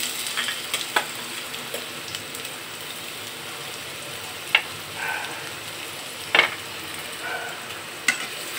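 Onion and garlic paste fry in hot oil in a pan, a steady close sizzle running throughout, broken by a few sharp spatula scrapes against the metal.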